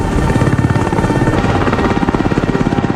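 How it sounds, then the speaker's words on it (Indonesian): A helicopter thumps loud and close, its rotor beating in a rapid steady chop over a dense rumbling engine roar throughout. "Sergei pun dibawa ke rumah sakit dengan menggunakan helikopter"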